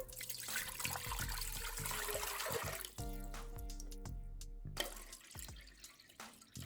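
Water running from a kitchen tap into a pot, a steady broadband rush filling the clip, with some clunks and a brief pause near the end as the flow shifts.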